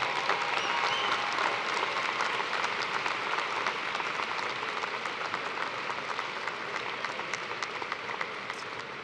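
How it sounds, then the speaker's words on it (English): An audience at a University of Toledo spring commencement ceremony claps in sustained, dense applause that stays loud and steady throughout, with no talking. "Let's give a round of applause for everyone who helped make this celebration a day to remember."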